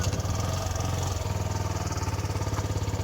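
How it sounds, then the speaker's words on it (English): A 2016 Piaggio Medley 125 scooter engine idles steadily close by, warming up with a continuous low, pulsing drone and no voices. "I'm gonna start it up and leave it to warm up a bit"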